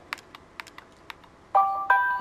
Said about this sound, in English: My phone goes off so much.